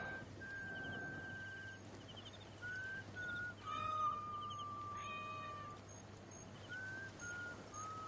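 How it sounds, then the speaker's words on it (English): Cats in Assassin's Creed Origins meow in several thin, drawn-out calls, some rising and falling, close but soft over a quiet game ambience hum, with no talking. "Pet the cat."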